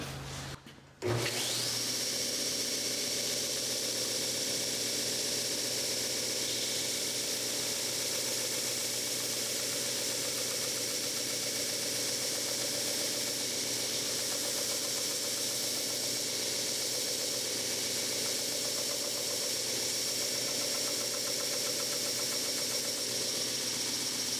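Sandpaper rubs steadily against the back of a small wooden mouse made from scrap wood and spinning on a woodturning lathe. A continuous close whirring hiss runs without pause over the hum of the lathe motor.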